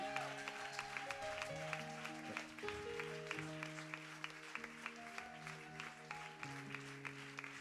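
A church congregation at ICC Martinique claps steadily in rhythm while keyboard or organ music plays underneath, the whole scene fairly faint and distant.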